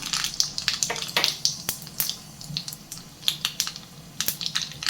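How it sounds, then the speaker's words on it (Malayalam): Mustard and cumin seeds dropped into hot oil, popping and crackling in close, irregular bursts of sharp snaps over a soft sizzle. "നമുക്ക് കുറച്ച് കടുകും കുറച്ച് ജീരകം വളരെ കുറച്ച് മതി. ഇത് എണ്ണയിലേക്ക് ഇട്ട് കൊടുക്കാം."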